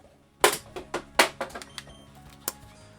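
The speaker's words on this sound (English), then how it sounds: "That was the sound of me throwing it up over my head on the floor somewhere." An empty juice bottle is tossed overhead onto a floor. It lands with a sharp clatter and then bounces several times in a quick, irregular rattle of light knocks. The knocks fade after a couple of seconds, with no talking.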